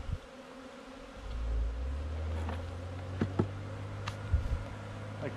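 A steady low buzzing of honey bees hums close by during a nucleus colony transfer to a hive, with a few soft knocks and taps over the drone.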